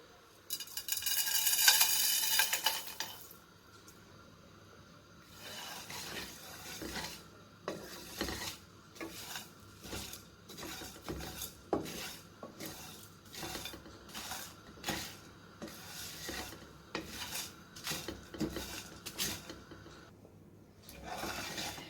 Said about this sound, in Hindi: अब इसमें साबुत धनिया, जीरा और मिर्चों को हम ड्राई रोस्ट कर लेंगे।